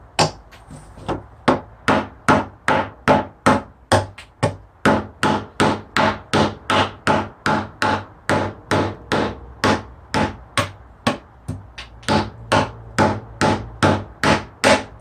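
Pallet wood is struck with a claw hammer to break the boards apart, giving a long series of sharp, evenly spaced knocks, close and loud with no talking.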